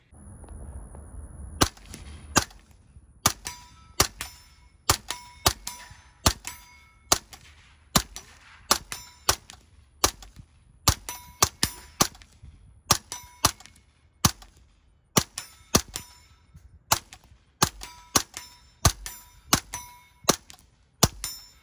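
A piston-operated Sig MPX submachine gun fires about two dozen single shots at a steady, unhurried pace, each a sharp, cracking report followed by a short ringing decay, with quiet gaps between them.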